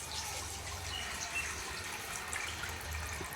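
A cup of tamarind juice is poured out for a curry, making a soft, continuous watery trickle with faint splashing at low volume from start to finish.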